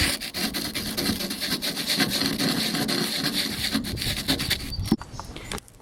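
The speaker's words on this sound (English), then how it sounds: "I'm sanding it with 80 grit and then 60 grit." Sandpaper of 80 grit scrubs rust off a car roof in rapid back-and-forth strokes, a loud, close, gritty rasping that runs steadily before stopping abruptly near the end.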